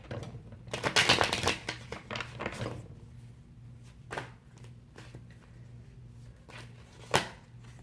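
Tarot cards riffled and shuffled in the hands, a dense papery flutter early on, then several separate soft snaps and slaps as single cards are drawn and laid down, close and quiet against a steady low hum.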